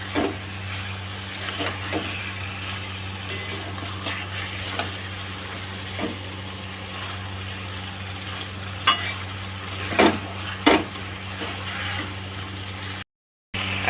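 Fish heads fry in a pan of oil, giving a continuous close sizzle and crackle with scattered louder pops and spatters, over a low steady hum; no talk is heard.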